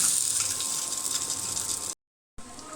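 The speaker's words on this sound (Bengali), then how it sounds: "তো তেল গরম হয়ে গিয়েছে, আমি এখনো হলুদ মাখানো ডিম দিয়ে দিলাম।" Turmeric-coated eggs fry in hot oil with a loud, steady, close hiss that cuts out abruptly for a moment and then resumes.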